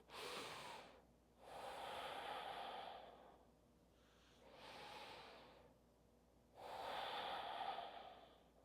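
Slow, deep breaths during a yoga stretch, each long airy exhale audible as a soft whoosh, four breaths spaced a few seconds apart, close and quiet with no talking.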